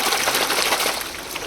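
Polluted water runs steadily from a tap in a continuous, fairly loud gushing hiss that holds evenly throughout, with no talking.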